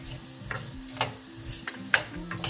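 Coriander seeds and cumin dry-roasting in a pan for sambar powder, stirred in short scraping strokes with a light rattle of seeds, over soft background music.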